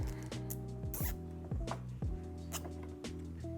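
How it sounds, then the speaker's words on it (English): A zip tie ratchets tight along the factory plug harness during a Dodge Durango tail light install, giving several quick zipping pulls in close succession, close and clear with no talking. "I zip tie it along the factory plug."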